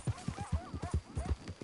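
Horse hooves clip-clop in a steady, quick rhythm of soft thuds, fairly close and moderately quiet, in the video game Red Dead Redemption 2.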